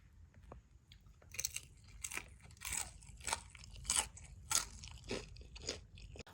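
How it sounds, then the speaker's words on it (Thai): Someone bites into crispy fried chicken coated in fish sauce, giving a series of close, sharp crunches and chewing sounds spaced irregularly over several seconds, with no speech. "แล้วจะชิมความกรอบด้วยค่ะว่ากรอบมากแค่ไหนคะ่ะ"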